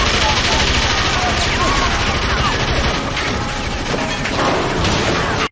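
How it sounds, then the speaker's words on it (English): A Tommy gun fires in rapid sustained bursts in a King Kong movie tie-in video game, a dense loud rattle of automatic gunfire running continuously with a few clattering impacts mixed in. "last but not least, my favourite, A Tommy gun!"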